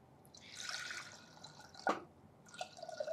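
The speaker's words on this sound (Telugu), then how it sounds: "దీంట్లో కొన్ని వాటర్ వేసుకోండి." Water is poured into ragi flour for ragi java: a faint, brief splash and trickle of liquid with a few soft drips, heard alone and quietly.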